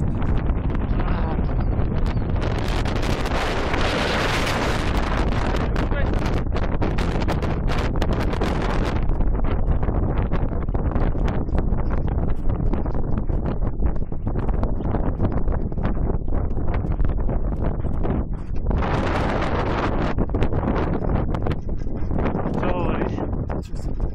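Strong gusting wind roars loudly and continuously across the microphone on the southern slope of Chopok, a mountain, with the broadband rush swelling and easing throughout and voices occasionally audible beneath it.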